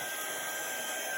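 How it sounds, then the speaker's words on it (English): A steady, loud blowing whoosh with a faint high whine, continuous throughout like a heat gun running up close. "now we're going to use the heat gun"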